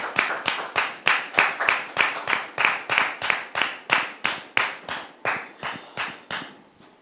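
Studio audience clapping in unison to welcome a guest on a talk show, loud rhythmic claps in a steady beat of about three per second that gradually loosens and fades near the end.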